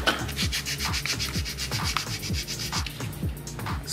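Sandpaper is rubbed back and forth over stuck-on deposits on a Honda Beat restoration part, a close, rhythmic rasping scrape of about two strokes per second that continues steadily throughout.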